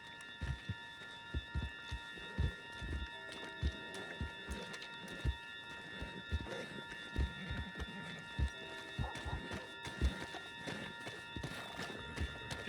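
A horse in Red Dead Redemption 2 clip-clops along at a steady gait. A faint whinny and rustling rise above a constant background bed.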